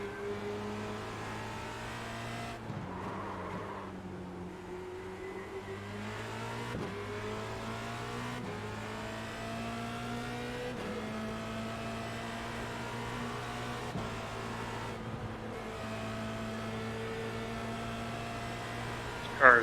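Race car engine in a Formula Renault 2.0 sim racing game at Road Atlanta, a steady high drone held down the straight with several clean upshifts stepping the pitch, loud and continuous with no talk.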